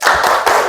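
A classroom group performs the Indonesian 'tepuk semangat' ice-breaker clap, with loud, close, rhythmic hand claps in a quick patterned burst.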